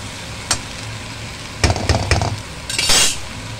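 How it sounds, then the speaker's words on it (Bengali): Medium-sized snake gourd (chichinga) stirred in a frying pan; a few close metallic clinks and scrapes of the spatula against the pan over a faint sizzle, in short separate bursts. "মিডিয়াম সাইজের 2টো চিচিঙ্গা আছে, ভালো করে নেড়ে ফেলে দেবো"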